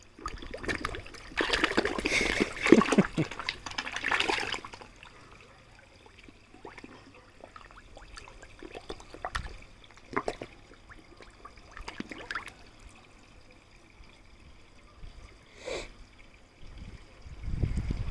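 Water pours and trickles into a home reef aquarium during a water change, a loud splashing burst at first, then fainter intermittent dribbles and drips nearby.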